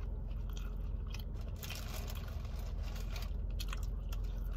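Toasted vegan bacon chewed close to the mic: steady, crunchy bites and mastication running continuously for a few seconds, with no talking.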